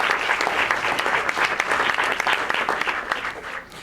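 An audience at a senator's fracking talk bursts into dense, loud applause for environmental advocacy groups, sustained clapping that runs the whole moment and eases off at the end.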